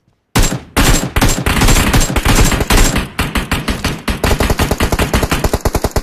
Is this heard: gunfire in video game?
yes